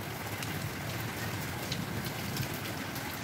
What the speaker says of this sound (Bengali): অনেকক্ষণ ধরে বৃষ্টি পড়ছে, এখন বৃষ্টিটা একটু কমছে নামাজের পরে